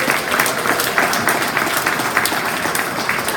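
An audience at a STEAM celebration event applauds for Carmen, a dense, even roar of many hands clapping close and steady with no voices standing out.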